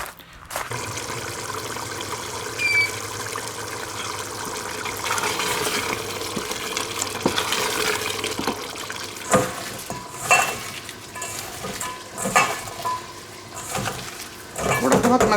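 Salt is rinsed off vegetables under running water in a kitchen. The water trickles and splashes unevenly, with occasional clinks of dishes, while someone talks nearby.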